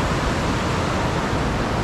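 Sea waves wash on a beach in southern Sumatra, Indonesia, heard as a steady, dense roar of surf that stays fairly loud and even throughout, with no distinct breaking rhythm and no voices.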